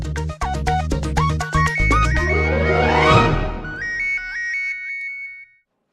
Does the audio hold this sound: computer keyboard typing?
no